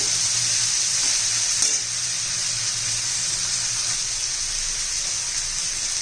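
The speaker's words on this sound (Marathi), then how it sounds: "सगळं व्यवस्थित परतून घेऊया छान असं सुगंध सुटेपर्यंत वास सुटेपर्यंत असं परतत राहायचंय" Potatoes, cluster beans and moth beans are stirred and sautéed in a pan, with a steady close sizzle and a brief clatter of stirring partway through, no voices.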